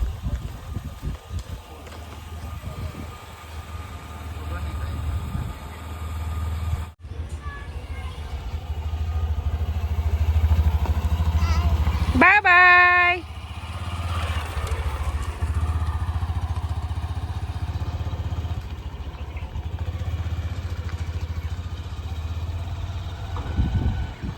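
A new motorcycle's engine idles and putters steadily nearby, with a brief rev and clatter midway, and voices faintly in the background.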